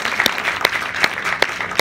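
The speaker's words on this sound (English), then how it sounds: "Round of applause for Abhiram." A short burst of audience clapping at a medical mentoring talk, giving a round of applause for a young participant, with a few sharp louder claps standing out.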